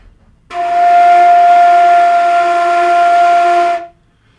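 A single breathy flute note, F, is held steadily for about three seconds, loud and close, then stops.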